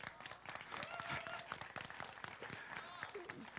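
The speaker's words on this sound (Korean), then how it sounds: "박수!" Applause from an audience at a youth conference, a faint, dense clapping crowd heard from a distance with some voices mixed in.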